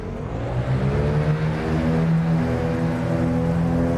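Twin piston engines of a BN-2 Islander aircraft in the X-Plane 11 flight simulator, a steady, loud droning hum with strong low harmonics, running evenly throughout without speech.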